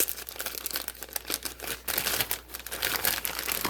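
A plastic bag opened and folded down by hand, with steady close crinkling and rustling in quick irregular bursts and no talk.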